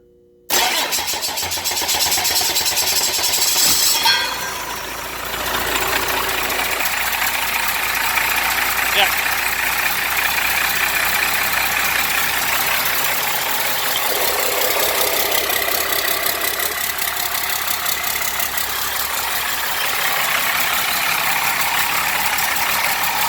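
Cummins 6BT diesel engine in an M35A2 military truck cranks briefly then catches and settles into a loud, steady, clattering idle held up close, with a slight dip early on and a voice talking over it.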